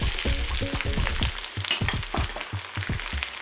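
Garlic cloves, ginger and sliced onions sizzle loudly in a hot pan for shahi paneer, with a steady frying hiss broken by repeated scraping, clattering stirs close up.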